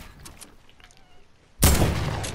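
A loud broadband blast of gunfire from a video game erupts after a quiet stretch and rings on, with faint background sound before it.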